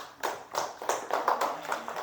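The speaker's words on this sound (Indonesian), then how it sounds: "Ayo tepuk tangan untuk kelompok 4." A class of students claps for a group's cardboard house project, giving several uneven bursts of applause that are fairly faint, with no talk over them.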